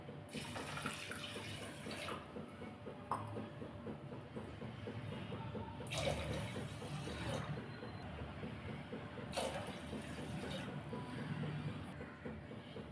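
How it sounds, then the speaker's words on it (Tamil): Water poured from a glass into a pot of rice and dal while making sweet temple-style pongal, a soft continuous splashing stream, quiet and close, with a few brief louder pours. "நான் எந்த கிளாஸால் அரிசி பருப்பு எடுத்தனோ அதே கிளாஸால் மூன்று கிளாஸ் அளவு நான் தண்ணி சேர்க்குறேன்"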